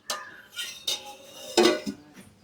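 A lid is set down on a pot of jaggery rice (bellam pongali) on a stove, giving several short metallic clanks and clinks spread over a couple of seconds, close by with no talking.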